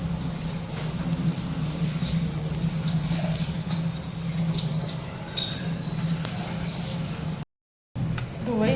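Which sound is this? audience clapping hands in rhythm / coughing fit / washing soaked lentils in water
washing soaked lentils in water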